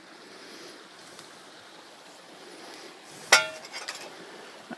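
Metal gold-prospecting pans set down on a steep riverbank, giving one sharp clink followed by a few softer rattles over the quiet wash of a nearby river.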